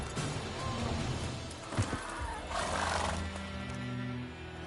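The horse Roach whinnies in The Witcher 3, a neigh rising over hoof clops and game ambience, with a thud midway and low background music.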